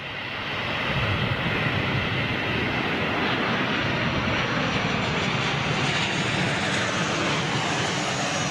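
A Cathay Pacific jet airliner's engines roar steadily as it passes, loud and sustained with a broad rushing tone, heard from a home near the flight path with no talking.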